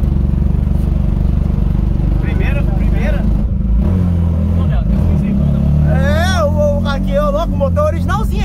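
A Ford Fiesta fitted with a Yamaha Twister motorcycle engine idles and revs loudly and steadily up close, with rising and falling engine pitch as people talk nearby throughout.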